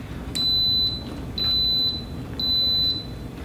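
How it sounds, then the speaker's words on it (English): An Instant Pot pressure cooker, set for an hour on high pressure with a whole frozen chicken inside, gives three evenly spaced, clear high-pitched electronic beeps as cooking begins, each about half a second long, over a quiet background. "the 3 beeps let us know it's cooking"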